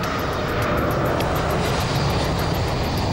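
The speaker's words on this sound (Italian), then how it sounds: "I 4 potenti reattori rombano sulla pista." Four jet engines of a Lockheed C-5 Galaxy military transport give a steady, dense roar on the runway during takeoff, loud and continuous with no pauses.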